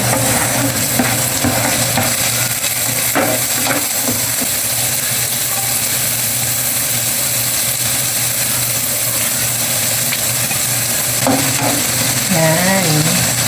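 Tomatoes sizzling in a pan with squid for adobong pusit, a loud, continuous frying hiss with intermittent stirring clatter throughout, no talking.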